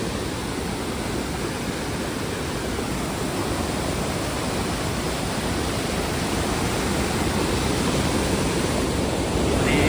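Lake water pouring down a channel toward a large river at a dam, a steady broadband rush that stays loud and even throughout, with no voices.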